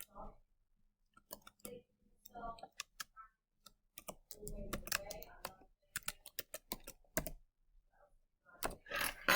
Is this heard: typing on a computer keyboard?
yes